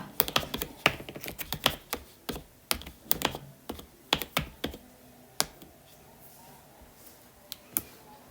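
Keys clatter on a computer keyboard in quick irregular bursts of close, crisp taps, thinning out to scattered single presses toward the end, with no talk over them.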